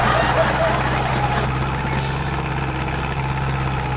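Tractor engine straining up a steep hill in the Farming Simulator 22 video game, a loud, steady low drone and rumble that holds without a break.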